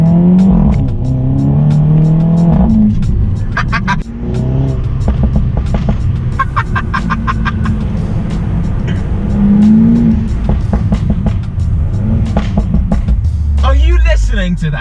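Inside a tunnel, a Mini Cooper S Convertible with a Remus catback exhaust revs hard in repeated rising pulls, with sharp crackles and pops between them, loud and echoing.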